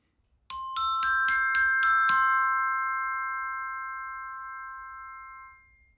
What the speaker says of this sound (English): here's an example of what a hard plastic mallet sounds like on the Glockenspiel